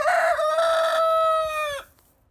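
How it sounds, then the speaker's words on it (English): A rooster crows loudly and close by, one long sustained call that drops off at the end, with a hint of hens clucking at the start. "There's the cockerel there. A couple of hens too."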